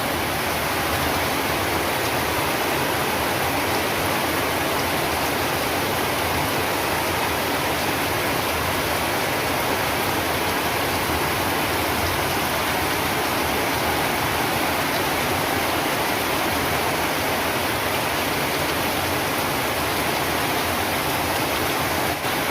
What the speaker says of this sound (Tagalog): Umuulan mga kaibigan, oh.